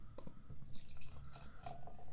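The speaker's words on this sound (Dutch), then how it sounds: "Ik ga nog gewoon inschenken" Groninger Amber Ale beer poured into a glass, a close, steady liquid pour with soft dripping and glugging splashes running throughout.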